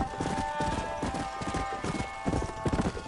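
Steady clip-clop of horse hooves trotting at an even rhythm in the video game Red Dead Redemption, with a constant tonal hum of game music or ambience underneath.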